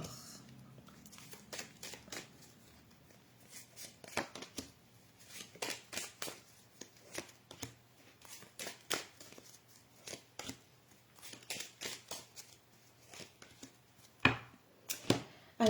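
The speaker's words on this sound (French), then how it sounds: "on va rajouter quelques cartes avec mon oracle des codes de lumière" Oracle cards are shuffled by hand in a series of quiet, quick riffling snaps and flicks. The bursts come at irregular intervals, faint and close, with no talking.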